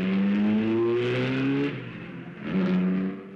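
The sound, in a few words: race car engine during practice at Le Mans 1957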